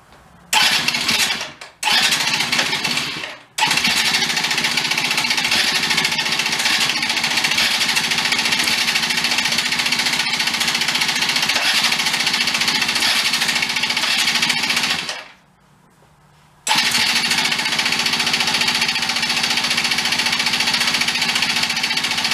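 Free broken scooter, just repaired, fires up with a few short sputtering bursts, then runs at a loud, steady buzzing rev, cuts out briefly, and catches again to keep running.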